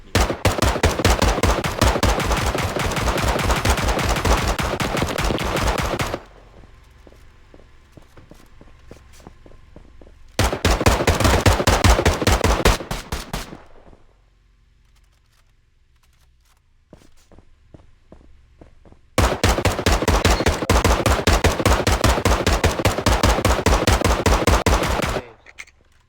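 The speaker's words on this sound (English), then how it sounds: "Who you shooting at?" Long bursts of rapid automatic gunfire in the Onestate RP video game, loud and close, in three sustained volleys separated by quieter stretches with faint footstep-like clatter.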